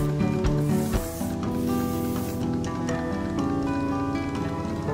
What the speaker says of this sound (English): Does It All Hairspray for light holds.